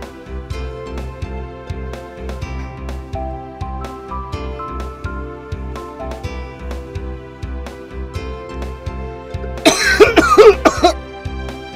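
A person coughs in a short burst of several harsh coughs near the end, heard over steady rhythmic background game music that plays throughout.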